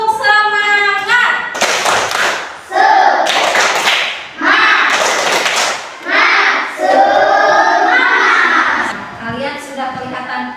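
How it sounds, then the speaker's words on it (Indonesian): Primary school class performing the 'tepuk semangat' rhythmic clapping chant, children's voices chanting loudly together with bursts of clapping in a steady pattern, close and lively. "Coba tepuk semangat."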